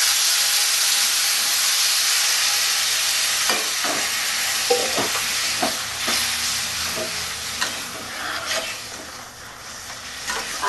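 Steady sizzling and frying hiss from raw green mango frying in a pan, with occasional stirring scrapes and clicks, close by and continuous throughout.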